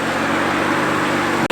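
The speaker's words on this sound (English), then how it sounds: "There's some cool cars pulling up now." Cars pulling up nearby, a steady loud rumble of engines and road noise filling the whole moment, ending in an abrupt brief dip.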